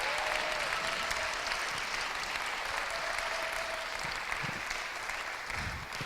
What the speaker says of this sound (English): One more round of applause for the Anna Cruces Seminars Choir